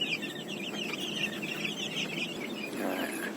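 Many big-footed chicken chicks peep in a continuous high, quiet twittering, overlapping chirps carrying on steadily throughout with no voices.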